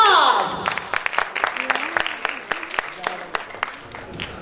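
An audience applauds to welcome performer Mohammad Ijaz at a tribute show for Pakistan's martyrs. After a brief voice at the start, a run of scattered, distinct claps follows, loud at first and then thinning.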